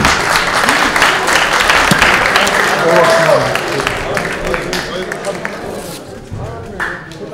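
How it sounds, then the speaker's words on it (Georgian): Boxing fight crowd at an open-ring national federation event applauding, a sustained wash of clapping and cheering at steady loudness that eases slightly toward the end, with voices mixed in. "აპლოდისმენტები დაუხმოთ ბრძოლებს"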